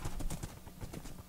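Horse hooves clip-clop in a steady, quick rhythm as riders travel on horseback in a video game, a run of close hoofbeats with no talk over them.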